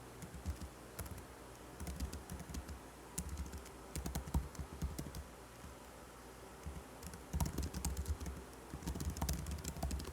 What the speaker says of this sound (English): but you can just type the whole thing out